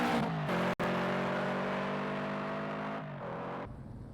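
Toyota 86 race car engines at the Brands Hatch GP circuit hold a loud, close, steady high-revving drone for about four seconds, with one very brief dropout near the start.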